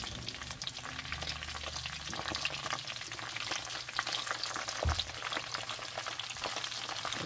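Ginger garlic paste frying in a pan for brinjal curry, a steady close sizzle with stirring scrapes throughout and one sharp clatter near the middle, no voices.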